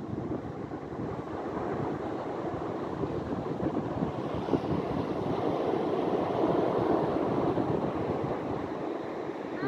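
Steady wind blows at the beach at night in Pontal do Maceió, Ceará, as a continuous broad rushing roar with buffeting against the microphone, and no voices are heard.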